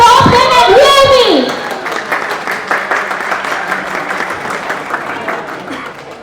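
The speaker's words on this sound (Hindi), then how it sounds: "A big round of applause" Audience applause at a Realme 14T phone launch with the Top-10 team, a dense burst of clapping that swells loudly at first then continues steadily under cheering voices and shouts.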